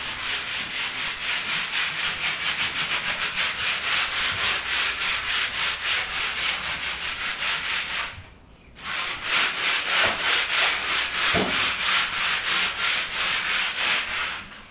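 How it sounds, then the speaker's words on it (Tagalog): Steady rhythmic rasp of hand sandpaper rubbing back and forth across a wooden apartment floor before repainting, close and loud, with a brief pause midway before the strokes resume. "Inuumpisa niya na pong iliha yung sahig."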